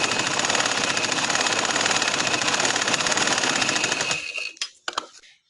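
A sewing machine stitches black trouser fabric in a loud, rapid, steady run for about four seconds, then stops, leaving a few sharp clicks and handling noises.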